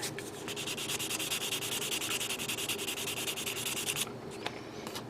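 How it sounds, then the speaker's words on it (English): Rapid, rhythmic back-and-forth scratching as a 400-grit sanding sponge works a plastic Gundam model kit part, close and steady for several seconds, then stops, leaving a faint tap. "Then get out the 400 grit on the sponge."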